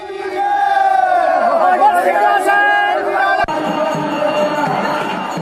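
Dense crowd at the Bagwal festival in Uttarakhand, a loud roar of many voices with shouts and battle-cry yells rising and falling continuously, close and sustained throughout.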